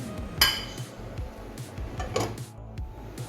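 A metal lid clanks onto a cooking pot of fish molee with a sharp clink, followed by a few softer scrapes and a second clink, close up in a quiet kitchen.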